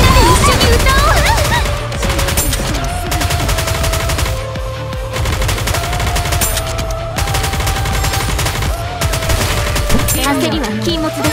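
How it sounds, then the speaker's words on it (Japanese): The Aegis cannon in the Nikke video game firing a rapid, continuous barrage of shots at steady volume, mixed with game music and a voice speaking over the action. "全速前進、イージスキャノン発射。"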